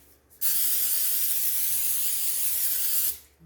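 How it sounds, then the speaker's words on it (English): Cooking spray hisses continuously onto a baking tray for about three seconds, close and loud, then stops abruptly. "we're going to have to spray down the tray"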